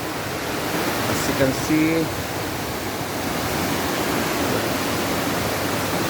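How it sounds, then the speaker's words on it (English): Rushing water of Hamogaway Falls in Bayugan City, Agusan del Sur, on a rainy day, a loud, steady broadband roar filling the whole clip, with someone briefly speaking over it near the start. "running water"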